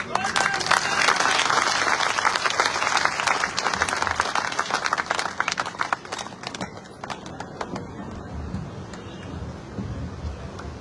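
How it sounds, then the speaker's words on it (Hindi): A crowd at an office inauguration event in Ratangarh breaks into loud applause, dense clapping for about six seconds that then fades into scattered claps and murmuring. "जोरदार ताली बजाकर"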